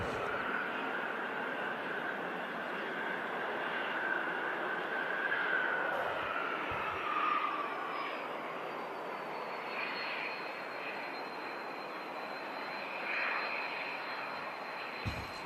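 A Brussels Airlines Airbus A320 takes off at Manchester Airport, a loud continuous jet engine roar that holds steady and slowly shifts in pitch as it climbs away, with no voices over it.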